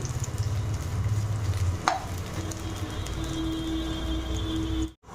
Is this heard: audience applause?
no